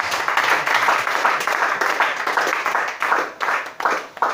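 Church congregation clapping and applauding during an Easter worship service, a dense steady wash of hand claps with crowd noise, moderately loud and continuous, with some voices mixed in.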